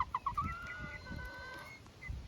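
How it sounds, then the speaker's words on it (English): Chickens clucking close by in short, repeated bursts, with a few higher calls rising over the low farmyard background. "I'm thinking the 2 brown ones are probably chickens."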